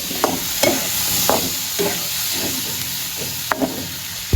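Eggplant fries in a pan with a steady hiss and sizzle, broken by regular scraping stirs that come roughly every half second to a second. Close and fairly loud, with no voices.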